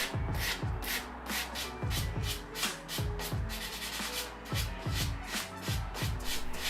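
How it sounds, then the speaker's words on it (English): Rhythmic back-and-forth rasping of a coarse 120-grit sanding block rounding plastic puzzle-cube edges, repeated strokes at an even pace, close and clear with no talking. "I'm using a coarse sanding block at around 120 grit to round off all of these edges."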